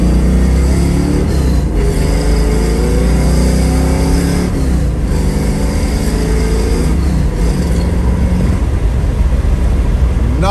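A 1972 Chevrolet Nova engine runs loud and close, revving up repeatedly with rising and falling pitch over a constant rumble, with no talking.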